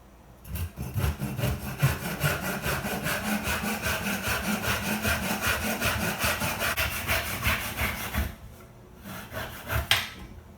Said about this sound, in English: If I want to make a cross cut here, no clamping, no vise, just the bench hook.